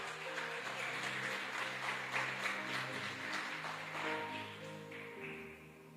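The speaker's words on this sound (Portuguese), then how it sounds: "Você pode aplaudir Jesus bem forte?" A church congregation claps loudly for several seconds, a dense wash of hands over sustained organ or keyboard chords, gradually thinning toward the end.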